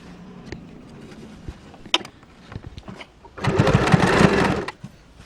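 Sewing machine running over folded fabric: quiet clicks and taps at first, then a loud, close burst of stitching lasting just over a second before stopping.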